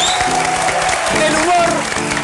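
Audience applause at a live comedy-and-piano show in a studio, a steady dense patter of clapping throughout under a presenter's voice.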